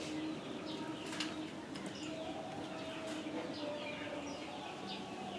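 A spotted dove coos softly in repeated low calls, partly buried under steady broadband noise and faint chirps from other birds, with no clear speech.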